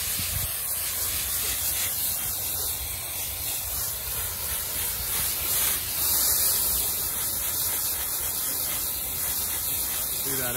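Water spray washing algae out of golf bunker sand in a capillary wash box, a steady loud hissing rush that swells slightly partway through.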